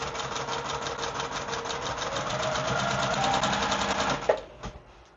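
A sewing machine runs steadily for several seconds, stitching a quilt binding down a row with a fast even needle patter, then stops with a couple of small clunks near the end.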